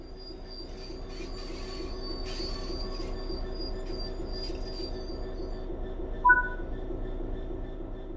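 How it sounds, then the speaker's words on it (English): Train braking to a stop in Train Sim World 3, with high, sustained wheel squeal over a steady low rolling rumble and a brief sharp tone near the end, no talking. "Bring this train to a complete stop by holding the brake control in the apply state"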